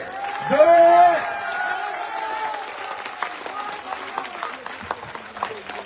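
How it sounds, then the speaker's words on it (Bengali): A crowd applauds at an election rally in Ramnagar for a Trinamool candidate, dense clapping that swells loudly early on and then carries on more unevenly under voices. "সকলে করতালি দিয়ে"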